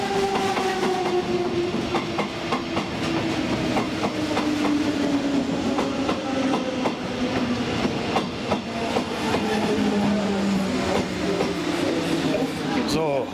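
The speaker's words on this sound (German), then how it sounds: "da habt ihr den versprochenen 485er auch" A class 485 S-Bahn train runs on a model railway layout, its motor whining in a slowly falling tone over a steady rattle of wheels on track, with a voice talking over it.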